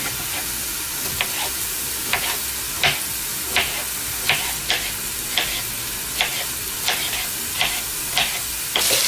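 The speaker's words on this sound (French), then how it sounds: "ma viande hachée est bien revenue, donc je vais ajouter mes poireaux et je vais laisser revenir" Minced meat and leeks fry in a pan with a steady sizzle, and a spoon clicks against the pan about a dozen times as the food is stirred, fairly close and with no talking.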